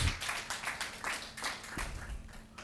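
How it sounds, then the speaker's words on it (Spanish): A small group claps in scattered, uneven rhythm at a Catholic formation class, the applause moderately quiet and somewhat distant. "Demos un aplauso a Jesús"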